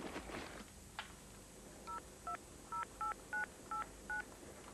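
Telephone keypad tones: a run of seven short, evenly spaced dial beeps, clear but quiet over a steady background hiss, with no talk.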